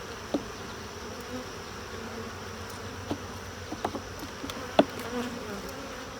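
Honeybees buzzing around an open hive during an inspection, a continuous soft droning hum with scattered faint clicks and knocks, moderate and close, with no talk.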